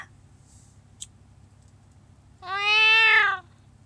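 A person mimics a cat's meow, a single drawn-out nasal mew about one second long, loud and close after a quiet stretch with a faint tick earlier, the outdoor alley otherwise near-silent.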